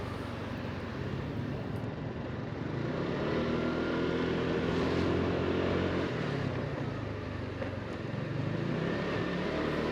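A Lexmoto Diablo motorcycle is ridden through town and accelerates smoothly, its engine a faint, continuous drone that rises in pitch as it gains speed, mixed with wind noise.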